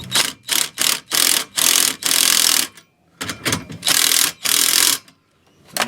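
Rapid bursts of a ratchet wrench clicking on a car being readied for paint, a run of short quick turns, a pause, then several longer ratcheting sweeps, loud and close with no talking.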